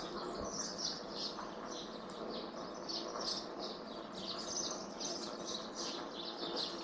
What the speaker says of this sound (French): Il y a le son des birds, des oiseaux.